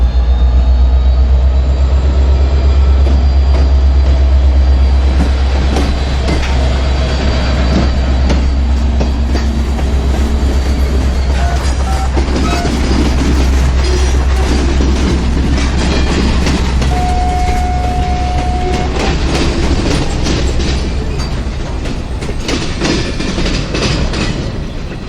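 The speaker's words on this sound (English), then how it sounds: "a lone GP60 in the thoroughbred paint scheme was seen running long hood forward with local train" A lone Norfolk Southern GP60 locomotive in the thoroughbred paint scheme hauls local train D27 on the Wabash in Illinois, a heavy diesel drone with deep low rumble, rolling wheel clatter and a brief horn-like tone, loud and near.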